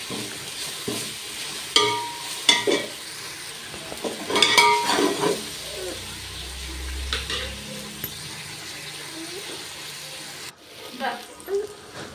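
Onions sautéing in a pan for traditional coconut rice, with intermittent scraping and stirring clinks of a utensil against the pan over a low sizzle, a voice speaking in places.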